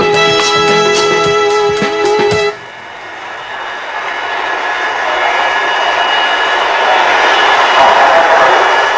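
An arriving airplane's engine gives a steady, loud broadband roar that builds slightly over several seconds, following a brief tonal, music-like passage at the start.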